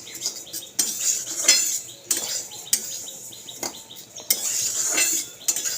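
Moong dal being stirred in a cooking pot, with repeated metallic scrapes and clanks of a spoon against the pot in an uneven rhythm, close and moderately loud, faint birds chirping behind and no talking.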